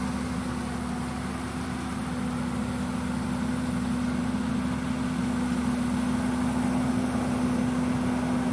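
A John Deere 7830 tractor engine idles with a steady, even low hum and drone, close and constant throughout.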